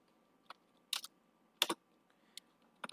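Short bursts of computer keyboard typing while writing HTML code, a few quick clustered keystrokes separated by pauses, close and clear in a quiet room.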